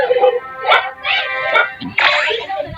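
Several short yips and barks from a dog come in bursts over a noisy, crowded background, fairly close and loud.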